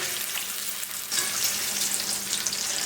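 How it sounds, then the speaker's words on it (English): Bacon sizzles and crackles steadily in a porcelain cast iron skillet, a close dense frying hiss with occasional stirring, no talking. "I'm going to go ahead and finish cooking this bacon"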